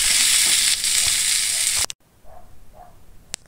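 Garlic and onion fry in a hot pan with a loud, dense sizzle for nearly two seconds, then it cuts off and only faint, quiet stirring noises remain.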